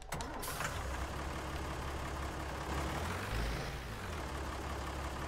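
A green tractor engine in Farming Simulator 19 starts with a short burst, then settles into a steady, low diesel idle. It stays up close and runs on its own with no talking over it.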